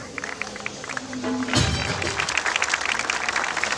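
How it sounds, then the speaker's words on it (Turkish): Outdoor crowd applauding a champion women's team at a municipal celebration, beginning as scattered taps and swelling after a thump into loud, continuous clapping. "Bu güzel alkışlar altın kanatlı melekler için."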